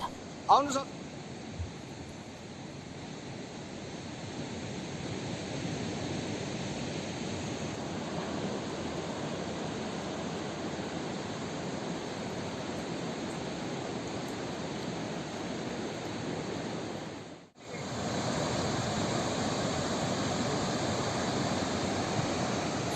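Floodwater surging through a river in hilly Sikkim, India, after a cloudburst: a steady, dense broadband roar of rushing water holding constant throughout, briefly cutting out near the end before resuming at the same level.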